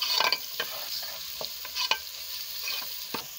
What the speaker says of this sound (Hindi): अब प्याज ब्राउन हो गया, अभी मैं ये लहसुन और अदरक डाल रही हूँ।